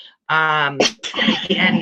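A single sharp sneeze bursts out right after a stretch of speech, and a voice keeps talking straight after it, close and clear.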